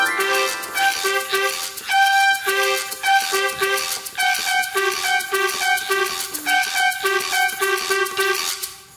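A small trumpet blows short, nasal, honking notes that imitate a crow's cawing in a children's music programme. The bursts are loud and close, repeated in a quick rhythmic run for several seconds.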